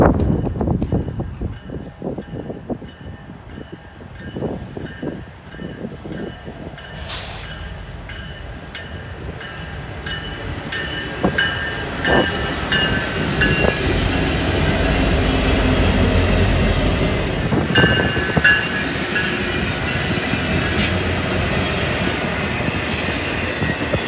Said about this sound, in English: the last engine was another WFRX SD70 Mac